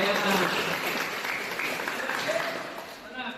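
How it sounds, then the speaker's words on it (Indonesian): Children in a classroom applaud a classmate's answer about a kindness mission, a steady patter of many small hands that fades slightly toward the end, with voices mixed in. "Masya Allah, tepuk tangan."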